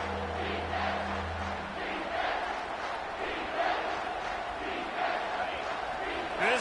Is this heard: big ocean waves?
no